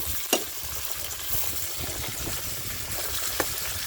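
Pork and garlic fry in a pan with a continuous crackling sizzle, broken by a couple of sharp clatters as the food is stirred; close and moderately loud, with no talk.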